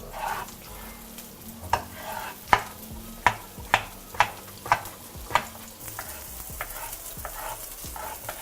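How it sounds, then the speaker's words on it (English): Garlic and chilies frying in hot oil, a constant sizzle punctuated by a regular series of sharp clacks from a utensil against the pan, close and loud with no voices. "The oil is already hot, so I'm just going to add the garlic and the chilies."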